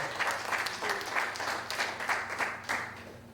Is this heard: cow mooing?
no